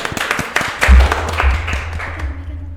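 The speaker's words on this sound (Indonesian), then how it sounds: "kita beri tepuk tangan dulu buat hari ini" An audience at a school university expo event claps in a short burst of applause, close and fairly loud, with a few claps standing out and faint voices mixed in.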